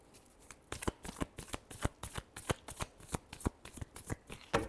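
A deck of tarot cards shuffled by hand, close and crisp, a rapid even rhythm of about twenty sharp flicking strokes with no voice over it.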